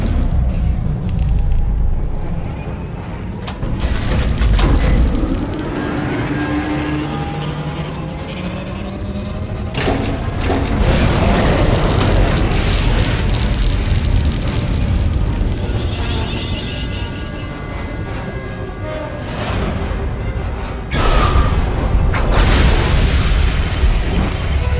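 Silencer superweapon firing in Star Wars: The Old Republic, a continuous loud barrage of deep booming explosions and rumbling blasts layered with whooshing energy and mechanical sounds, swelling again near the end.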